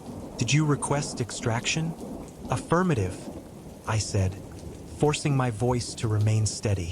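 Steady rain with occasional rumbling thunder plays as a soft bed beneath a man's close, continuous spoken narration.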